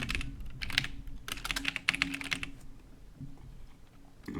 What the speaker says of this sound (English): I literally just type in trading sessions.